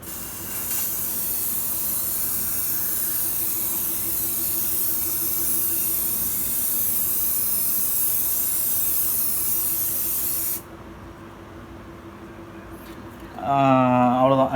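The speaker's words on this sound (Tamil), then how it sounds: "அவ்வளோதான், ஸ்ப்ரே பண்ணியாச்சு." A fixative spray can hisses in a long continuous burst over a drawing, steady and close, then cuts off abruptly, followed by a brief quiet stretch and a short spoken remark.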